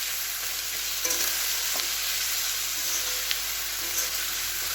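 Meat frying in mustard oil in a wok with whole spices, onion and garlic: a steady, fairly quiet sizzle with occasional stirring clinks and scrapes. No one speaks.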